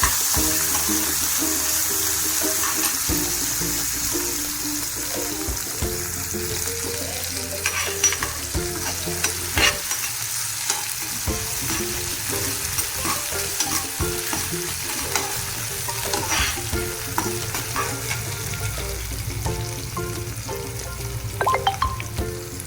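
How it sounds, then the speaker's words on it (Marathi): Tomatoes fried soft in a pan over browned onion for a sprouted moth bean curry, with continuous sizzling and repeated spatula stirs and scrapes, close and steady throughout, and no speech. "टोमॅटो पण छान मऊ होईपर्यंत परतून घ्यायचा"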